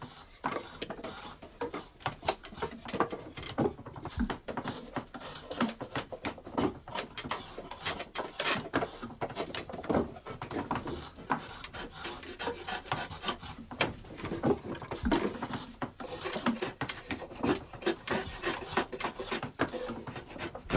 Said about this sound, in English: Cutting off the side edges of the board is referred to as rake edges.